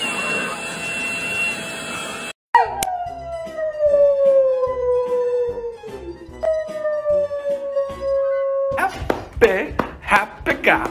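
Dog howling in a long, wavering, sliding tone that drops in pitch, restarts and holds steady, framed by bursts of other household noise before and after, with voices heard around it.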